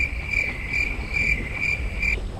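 A cricket chirps at night during a night fishing contest, a steady high trill broken into regular pulses that repeats through the whole stretch at close range over a low background rumble.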